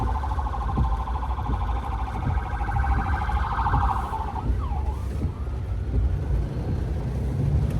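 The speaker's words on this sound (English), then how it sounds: "an ambulance is coming, so I need to pull over so he can get by." A wailing ambulance siren sounds from a distance over steady traffic rumble and rain on a Tennessee road, then drops off abruptly partway through.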